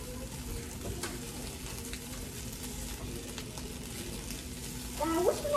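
Breakfast eggs frying in a pan give a faint, continuous sizzle. A short voice-like sound cuts in near the end.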